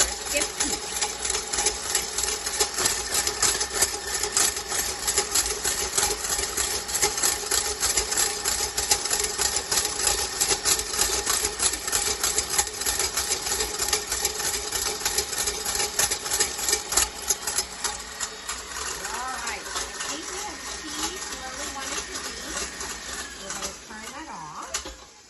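A stand mixer whips egg whites into meringue with a steady, dense mechanical whir that continues unbroken for the whole stretch, easing slightly toward the end.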